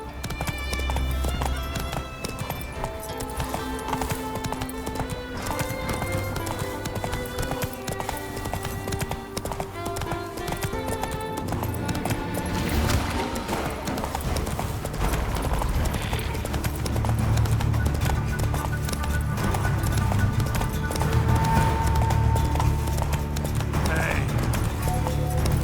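Roach, a horse in the video game The Witcher III, gallops with steady rapid hoofbeats and an occasional whinny under continuous game music. The sound is sustained and fairly loud throughout.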